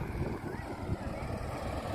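A farm tractor's engine runs steadily on a strawberry farm, a continuous low rumbling drone close by with no other sounds over it.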